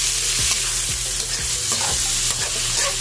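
Onion, garlic and tomato sauté in a pan for ginisang sayote with chicken, a steady loud sizzle under repeated scraping strokes of a spoon stirring the mixture, with no voices.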